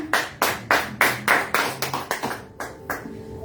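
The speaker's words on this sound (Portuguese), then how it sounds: "As palmas louvem o Senhor." Sharp, steady hand claps during a church service ring out about three per second, loud and close, slowing slightly and thinning toward the end with no talking.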